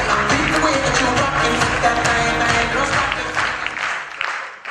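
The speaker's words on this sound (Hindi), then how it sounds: "मिसेज अनीता एंड कपिल वर्मा जी के लिए भी जोरदार तालियां चाहूंगा" Steady applause from a crowd at a Modicare event fills the whole stretch, dense clapping that tapers off near the end.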